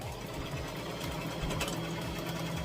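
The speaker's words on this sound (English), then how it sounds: "So I'm gonna go ahead and start sewing it" A sewing machine stitches a tutu outfit, running continuously with a rapid, even mechanical chatter at a steady close level.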